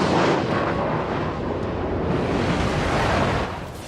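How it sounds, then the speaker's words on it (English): Naval gunfire and explosions in the World of Warships video game: a dense, continuous booming roar that stays loud throughout and eases slightly near the end. "So I'm going to blind fire."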